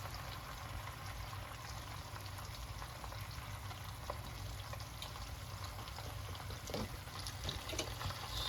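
Potatoes fry in a well-filled skillet with a steady, faint, even sizzle and crackle that holds throughout, with no voices.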